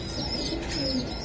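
Budapest pigeons at a pigeon farm give soft, low cooing calls with faint chirps, close by and continuous against a quiet background.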